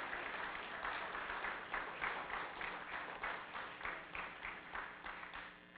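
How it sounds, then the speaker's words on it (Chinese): A concert hall audience applauds young arts workers standing at a building inauguration ceremony, a faint, sustained patter of many hands clapping in pulsing waves. "请站起来，让我们大家给你鼓掌"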